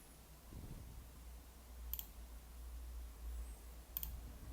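Keys tapped on a computer keyboard while working in a Linux development setup: two faint, sharp clicks about two seconds apart over a low, steady room hum.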